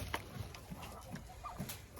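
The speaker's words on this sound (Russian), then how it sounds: "Вот смотрите, как набросились курочки." Hens cluck softly in a coop while pecking at crushed shell feed, with scattered low clucks and pecking noises, faint and close.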